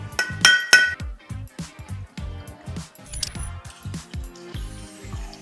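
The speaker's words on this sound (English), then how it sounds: "Muddle fresh mint with sugar and bourbon." Fresh mint, sugar and bourbon are muddled for a mint julep, giving a steady run of dull thumps and grinding knocks in a glass, with a few bright glassy clinks near the start.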